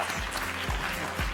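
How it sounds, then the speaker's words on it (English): Audience clapping at a wearable health technology event, a steady moderately faint wash of handclaps with low-frequency room rumble, continuous throughout the short moment. "please a warm round of applause for Lena Rao"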